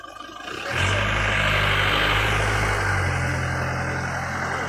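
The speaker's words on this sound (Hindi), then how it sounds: "आवे रे गाड़ी आवे" A motor vehicle arrives near a village river in rainy weather, its engine rising quickly from a quiet start into a loud, steady drone that holds close to the microphone and stays strong to the end.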